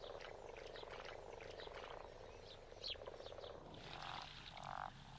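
A chorus of frogs croaking together, a dense and steady rattling chatter with one louder nearby croak standing out near the end.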